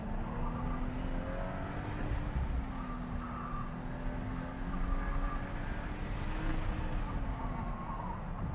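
Toyota GR Supra with a manual gearbox and B58 turbo engine lapping a track, a steady in-cabin engine drone holding one even pitch with slight rises, loud and continuous throughout.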